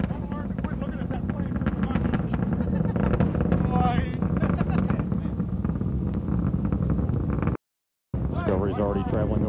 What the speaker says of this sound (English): Engines are throttling back now, helping ease Discovery through the dense lower altitudes as it continues to accelerate rapidly.